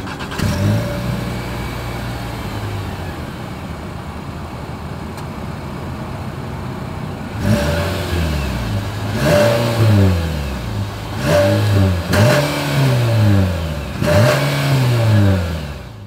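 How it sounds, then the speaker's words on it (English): A 2023 Nissan Sentra exhaust idles steadily and then gives a series of loud, close revs that rise and fall in quick succession, with no talking. "Then here is that exhaust clip."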